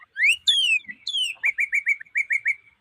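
A cardinal sings nearby, loud clear descending whistles followed by a quick series of repeated chirping notes, with no other sound around it.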